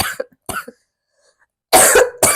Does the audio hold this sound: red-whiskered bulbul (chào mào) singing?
no